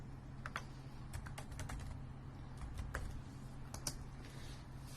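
Soft clicking of a computer keyboard being typed on at an irregular pace, quiet and close over a low steady hum, with no voices.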